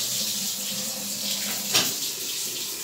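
Water runs steadily from a household tap in a close, even rush, with a brief clatter partway through.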